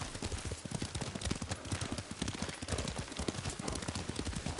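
Horse hooves clip-clop in Ghost of Tsushima, a steady, brisk rhythm of close hoofbeats running throughout with no talking.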